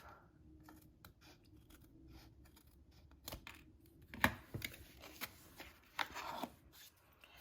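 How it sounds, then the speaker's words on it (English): A few sharp snips from scissors, close by and separate, over a quiet rustle of handling. "I'm just going to snip that off."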